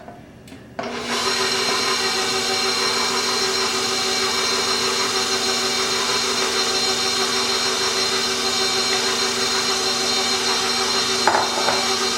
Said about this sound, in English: So you'll mix this until your dough starts climbing up your dough hook.